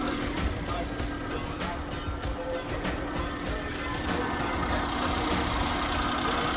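A Daihatsu Mira Spacy A1's small EF engine idles steadily with a low, even rumble and faint mechanical ticking, running smoothly without revving.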